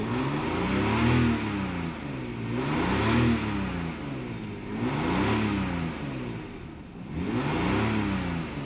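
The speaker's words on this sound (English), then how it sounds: "The car's actually been idling for a little bit, so I'm gonna give it some revs right now." A Nissan Skyline R33 GTS4 RB25DE engine revs up and back down four times in a steady rhythm, the pitch rising and falling with each close, loud rev.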